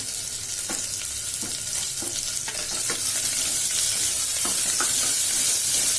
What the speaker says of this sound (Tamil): இப்போ வெங்காயம் கொஞ்சம் வதங்கட்டும்.